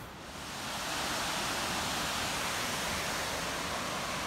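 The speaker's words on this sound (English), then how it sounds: "We can see the waterfalls, and apparently there's three giant waterfalls here." Catarata Juco de Mastatal, a waterfall in Costa Rica, roars as a steady, broad rush of falling water that swells in the first second and then holds loud and unbroken.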